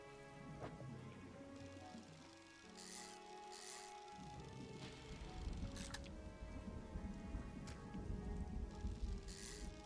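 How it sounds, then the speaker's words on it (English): Steady rain in the video game Dredge patters and hisses throughout, with a few brighter splashy bursts and low rumbling beneath, fairly constant in loudness. "Oh, it's raining."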